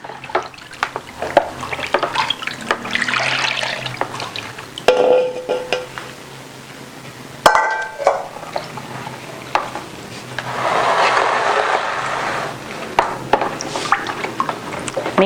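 An air freshener mixture is stirred into water in a container, with close swishing and sloshing, occasional knocks against the vessel and a longer stretch of steady churning midway.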